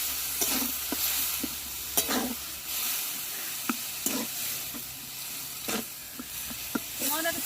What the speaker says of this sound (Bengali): সামান্য অল্প একটু জল দিয়ে মশলাটা কষিয়ে নেবো